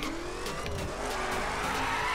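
A Corvette ZR1 in The Crew racing game skids and drifts with sustained tire squeal over a loud continuous engine roar, filling the whole moment without any speech.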